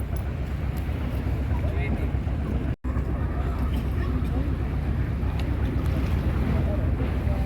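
Heavy waves and strong wind batter a ship dock where vessels struggle to berth, a steady rough roar of surf and wind buffeting the microphone, with a brief dropout midway.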